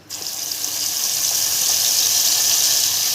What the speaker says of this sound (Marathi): तेल तापलेलं आहे आपण शेंगदाणे बारीक केलेलं बॅटर टाकूया